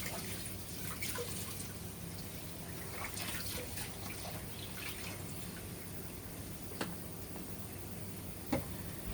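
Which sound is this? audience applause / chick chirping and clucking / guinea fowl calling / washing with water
washing with water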